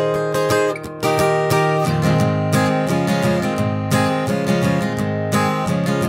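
Close, loud acoustic guitar strums the chord progression of a song in a steady rhythm, with a brief dip in volume near the start.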